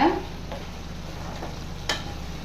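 Prawns and mutton frying with masala being stirred through them in a pan: a constant soft sizzle with a few scraping stirs, one sharper scrape near the end, close by and without speech.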